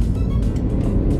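A BMW 4 Series M Pack car accelerating, heard from inside as a loud, steady low engine drone with rumbling road noise, with no voices.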